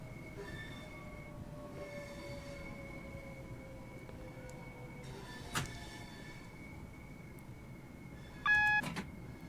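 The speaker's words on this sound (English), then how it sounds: "you can just hear the slight rattle of the train as it bumps along" Train cab rattling and bumping along in Train Sim World 2, a steady rolling rumble with faint squealing tones, a sharp clunk midway and a brief rattling burst near the end.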